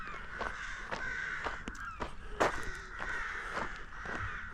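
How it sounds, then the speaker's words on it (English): Crows caw repeatedly in a village by the Firth of Forth, a series of harsh calls at varied distances, some near and loud, over a soft outdoor background. "The crows are getting excited."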